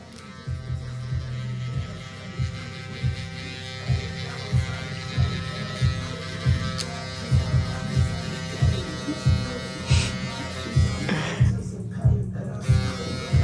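Electric hair clippers fitted with a one guard buzz steadily while cutting a mid taper, a low mains-like hum with rhythmic pulsing bursts as the blade passes through hair, close and moderately loud.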